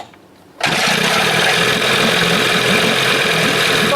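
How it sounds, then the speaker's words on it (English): 1980 Johnson 20 hp outboard engine starting after a carburetor swap: a quiet moment, then it catches abruptly and runs at a loud, steady, buzzing idle close by, with no talk. "Fires right up on that carb."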